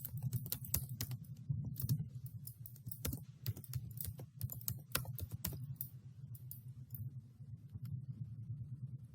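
A computer keyboard is typed on in quick, irregular bursts of soft close clicks while text is entered for a Canva graphic, with a faint low hum underneath.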